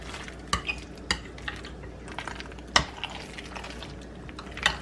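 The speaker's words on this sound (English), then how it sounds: "making sure that I'm mixing it well" Macaroni noodles being stirred into cheese sauce for creamy baked mac and cheese, with a few sharp clinks of a utensil against the pot over soft, wet mixing sounds, close and fairly quiet with no talk.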